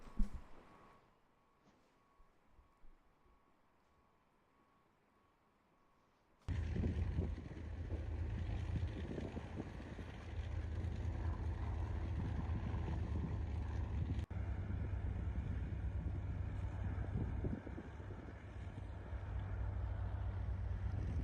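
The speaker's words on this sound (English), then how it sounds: "We got two of them engines running." Twin airliner jet engines run in Microsoft Flight Simulator: near-silence gives way abruptly to a loud, steady, broad roar with a deep low hum that holds for the rest of the clip, with no talk.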